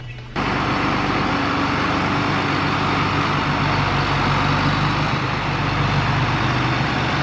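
A tractor engine runs hard at full throttle while driving a PTO dynamometer, a loud, steady, unbroken roar that kicks in abruptly and holds at a constant pitch.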